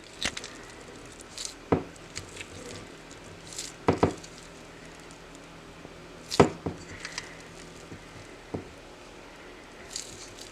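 Soft wet squishes of homemade butter pressed against the side of a bowl, a few separate squeezes spaced several seconds apart, close and quiet with a faint background hiss.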